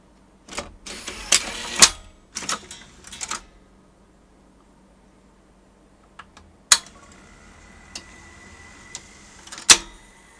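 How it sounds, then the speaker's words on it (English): A Sony U-matic VO-5800PS video recorder takes in a tape: sharp clacks and rattling mechanism bursts, then quiet gaps broken by single loud clicks and a faint motor whir, all close. "And let's watch it take a tape in."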